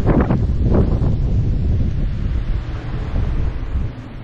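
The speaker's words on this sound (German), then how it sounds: "Ein Sturm zieht auf." Wind and low rumbling thunder of an approaching storm on a Mallorca mountain trail, a dense roar loudest in the first second with rolling low bursts, then steady blustery noise that eases slightly toward the end, with no voices.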